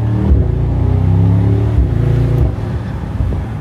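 Loud, deep engine roar from a Mercedes SL63 AMG, holding a steady rev for a couple of seconds before dropping back to a rumbling burble.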